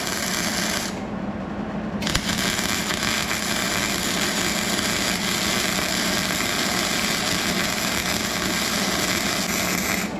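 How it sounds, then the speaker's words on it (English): An old welder works on a cheap old four-wheeler in a smoky garage. A loud, continuous crackling hiss carries on without a break for about ten seconds. "that's about all the welding we're gonna be able to do tonight"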